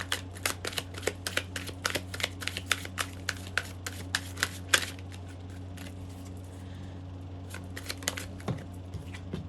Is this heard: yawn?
no